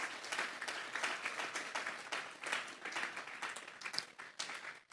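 Sustained audience applause and clapping fills a church service, steady and fairly dense for about five seconds with a few sharper claps near the end.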